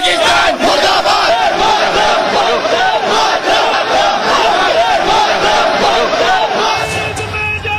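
A dense crowd of hundreds fills a road at a funeral procession for a soldier, roaring and chanting patriotic slogans in one continuous loud wall of voices.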